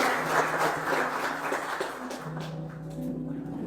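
Steady applause from a church congregation, sustained clapping that gradually thins out, with a low musical drone underneath.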